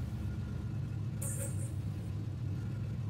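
A Suzuki Swift in a racing video game drives with a steady low engine rumble and a brief higher whine partway through, heard under faint background talk.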